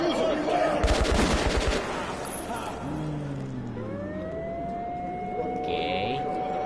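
A burst of rapid automatic gunfire in the video game Metro: Last Light Redux, with shouting voices and rising siren-like tones following the shots.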